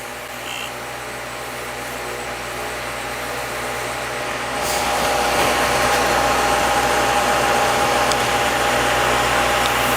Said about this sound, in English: Remember to turn your lathe up